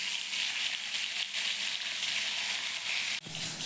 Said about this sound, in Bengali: বাকি দুটো মাছ এবার ভেজে নেব।